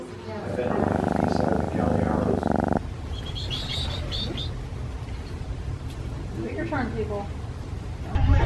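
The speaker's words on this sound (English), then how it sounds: "You're a good cat." A young cat purrs close up, a low rumbling hum, while people talk nearby, followed by faint outdoor chirps in a desert setting.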